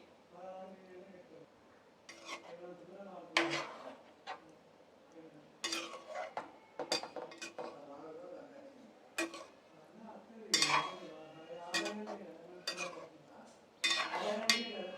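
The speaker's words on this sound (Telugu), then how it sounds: "పీసెస్కి తగలకుండా మెల్లగా కలుపుకుందాం" Fish curry being gently stirred in a pot, scattered soft clinks and scrapes of a spoon against metal amid quiet background, with intermittent speech throughout.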